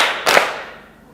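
A classroom group claps together once in a single sharp, close burst that quickly fades into room quiet.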